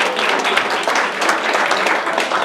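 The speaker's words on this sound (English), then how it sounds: "She didn't get a very big clap." A church audience applauds in a steady, dense patter of many hands clapping together, moderately loud, with no talking over it.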